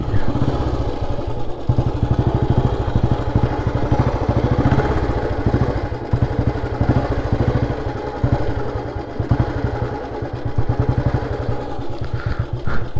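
A Royal Enfield Bullet motorcycle engine runs steadily with a loud, rapid, even thump-thump beat and mechanical clatter, close by and uninterrupted for the whole stretch, with no talk over it.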